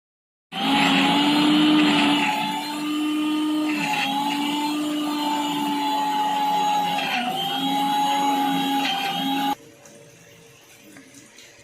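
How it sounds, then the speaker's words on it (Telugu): A kitchen mixer grinder whirring loudly as it grinds tamarind, cumin, garlic and salt for mint-tomato chutney, a steady high motor whine with slight pitch dips, running alone for about nine seconds before cutting off to a faint hum. "వేసి మిక్సీ పట్టేసుకుందాం"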